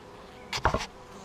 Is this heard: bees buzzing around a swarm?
yes